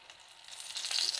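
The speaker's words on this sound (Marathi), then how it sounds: "झाकण काढून घेऊ आणि ह्या मिरच्या उलटवून घेऊ." Stuffed green chilies frying in oil are turned over, with a soft hiss of frying that grows louder toward the end of the brief moment, close by.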